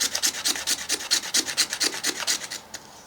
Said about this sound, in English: It looks like the spine is doing really good at making shavings.